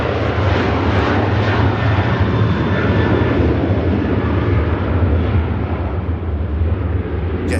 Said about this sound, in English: Long takeoff roll. And increases the climb rate.